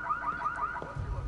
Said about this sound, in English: we might start this car alarm here